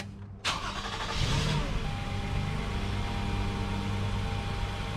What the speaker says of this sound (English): Now I'm going to start up the car.